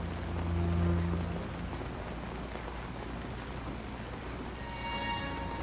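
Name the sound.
rain falling in a scene of the series DARK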